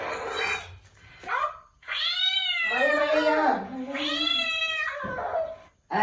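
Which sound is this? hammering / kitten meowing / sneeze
kitten meowing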